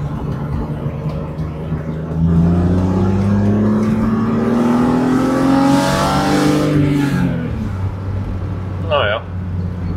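BMW M3 E30 cabrio fitted with an M52B28 engine accelerating in second gear, a loud, close engine note climbing steadily in pitch for several seconds before easing off, with road and wind noise throughout.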